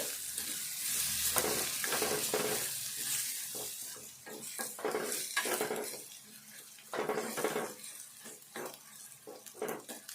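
Lentils and tomatoes with chilli frying in a pan, a low sizzle under repeated scraping and clinking of a spoon against the pan as it is stirred, close and fairly quiet, no one talking.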